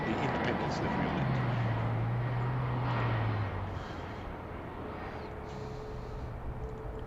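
A jet airliner in Independence livery at Heathrow Airport, its engine roar loud and steady for a few seconds before easing to a lower, distant rumble.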